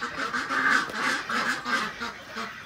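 Poultry calling close by, a rapid series of nasal quacking honks in an irregular rhythm, fairly loud, with no voices.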